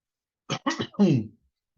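A short burst of three rough coughs or throat-clearing sounds, close and fairly loud, then silence.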